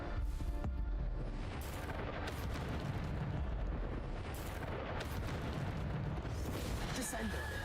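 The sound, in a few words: Bombarda explosive spell in the video game Hogwarts Legacy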